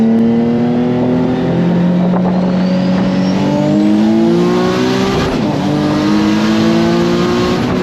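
Boosted Nissan 350Z pulling hard on a canyon road, its engine note climbing steadily through a loud, sustained acceleration with harmonics rising in pitch, close and continuous for the whole stretch.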